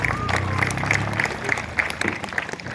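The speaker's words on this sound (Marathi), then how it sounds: "यानंतर माझ्यासोबतले सर्व गुणजन कलाकारांसाठी एकदा सर्वांनी जोरदार टाळ्या वाजवा" Applause from the audience at a live bharud bhajan-kirtan devotional performance, a steady wash of many hands clapping for the performers that carries on for the whole moment, close and fairly loud, with some voices mixed in.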